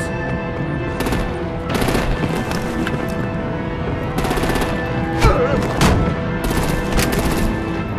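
Artillery gunfire erupts in a Batman: The Enemy Within video game scene, with repeated bursts of rapid shots and heavy impacts cracking in clusters over a continuous layer of action noise.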